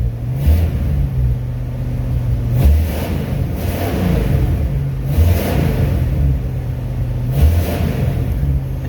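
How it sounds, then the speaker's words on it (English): An old car's engine, warmed up and suffering a leaky heater core, is revved repeatedly up close, its loud low rumble swelling and easing in a series of surges. "So I figure rev the engine, right?"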